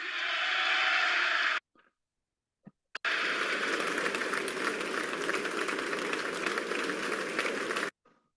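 A crowd applauds and cheers a political speech, loud and dense, in two long bursts separated by a short near-silent gap with a faint knock.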